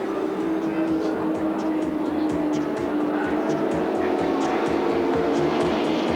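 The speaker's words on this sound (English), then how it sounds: "Fury's car with Glenn Seaton driving it still sounds sweet as a nut." A touring race car's engine sounds down the main straight at Sandown Park during the 1986 Castrol 500, a steady, loud, continuous drone that carries through the whole stretch without any voices.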